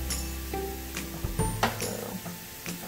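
Onions frying for a chorizo hash give a soft, steady sizzle close by, with a few clinks and scrapes of stirring over it and no talking.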